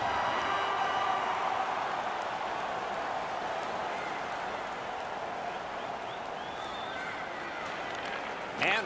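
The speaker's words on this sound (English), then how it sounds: "the home crowd's pretty pumped with that decision" Crowd in a hockey video game arena cheers, a sustained broad roar of a large audience that holds steady with a slight late swell, alongside commentary.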